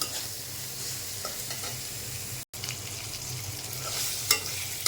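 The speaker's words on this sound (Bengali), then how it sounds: "আমার পেঁয়াজ রসুনের সাথে ঝিঙ্গা ভাজা হয়ে গেছে" Ridge gourd frying with onion and garlic in a pan, a steady close sizzle with stirring that runs unbroken apart from a momentary dropout midway.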